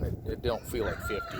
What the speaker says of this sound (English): excuse the rooster noise